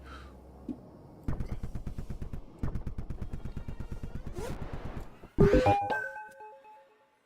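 Explosions in a platforming video game come as two runs of rapid, rattling blasts in a quick steady rhythm, then a louder, bigger boom trailing into descending electronic tones, with no talking.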